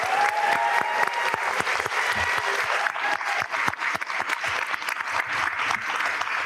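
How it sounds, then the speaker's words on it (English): Sustained, dense applause from a school board meeting audience fills the room, loud and continuous with many overlapping claps and no pause. "Can we give them a big round of applause?"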